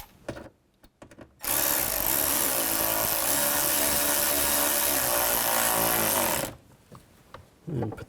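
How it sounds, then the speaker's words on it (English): A power drill drives screws into a 2000-06 GMC Yukon front door during a window regulator replacement: one loud continuous whirring run of about five seconds, framed by light clicks and handling noises. "Put these screws back in. Get that started."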